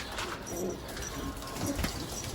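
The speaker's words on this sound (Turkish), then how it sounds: "Hediye gelen güvercinimiz arkadaşlar buradaki bu sarı yavru." A young yellow pigeon coos softly at close range with a few short, throaty calls over background noise.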